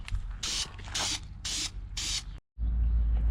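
Four spray-can bursts of paint, each about half a second, hiss in a steady rhythm as light coats go onto a cleaned, degreased BMW E30 subframe, close and loud over a low background hum, then a brief silence.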